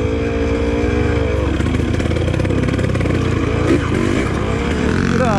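A Yamaha DT180 dirt bike descending a steep trail, its two-stroke engine droning loud and close throughout with uneven throttle shifts and rattling over rough ground.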